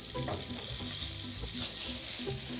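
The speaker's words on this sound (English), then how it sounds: "then right into the wicked hot, ripping hot, however you wanna say it, cast iron pan" Seasoned tofu sizzling in a very hot cast iron pan, a loud, dense, unbroken hiss of frying oil heard up close, with faint knocks of the pan beneath.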